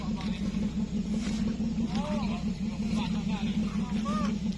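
A truck engine stuck in sticky mud on a rural road rumbles and revs at a low, steady pitch, with voices talking over it.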